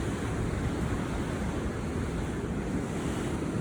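South Atlantic Ocean surf washing against a jetty, a continuous loud roar of breaking waves mixed with gusting wind buffeting the microphone, no voices.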